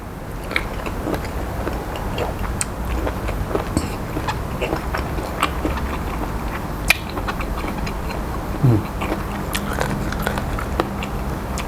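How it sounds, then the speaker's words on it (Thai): Someone chews a crunchy grilled giant squid tentacle up close, a steady run of wet, crackling bites and crunches with a few sharper snaps. "เวลาเคี่ยวแล้วก็กรุบกรุบกรุบดี"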